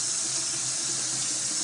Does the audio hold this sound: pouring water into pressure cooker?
yes